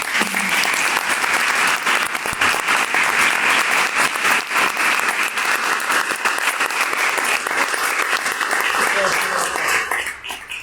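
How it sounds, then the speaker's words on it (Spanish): A talk audience applauds the speaker with dense, loud clapping that holds steady for about ten seconds, with a few voices under it, then tapers off at the end. "Un aplauso para ti."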